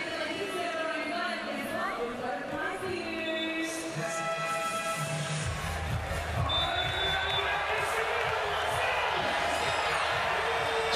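Arena crowd at a FIBA Basketball World Cup third-place game between the USA and Canada, a steady roar of fans cheering and whooping with scattered whistles, under continuous commentary and court noise.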